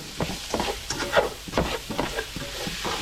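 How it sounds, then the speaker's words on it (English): A meat mixture sizzling and frying in a pan, with scraping and stirring noises coming in bursts at close range. "And then our meat mixture is sizzling a little bit."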